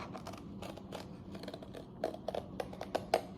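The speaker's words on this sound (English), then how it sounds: "Using a scissor. And cut that out." Scissors cutting out an engine slot in paper for a model rocket, a series of quick close snips and rustles that grow crisper and more distinct in the second half.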